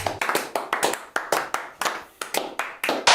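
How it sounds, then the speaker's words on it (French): Hand claps ring out in a sharp, uneven series of about a dozen distinct strikes, close and loud, sounding like a small group or single pair of hands rather than a full audience. "Des applaudissements également."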